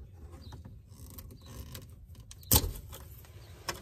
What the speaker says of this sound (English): Next, we're gonna unplug this plug. This is the only electrical plug we have on this particular device.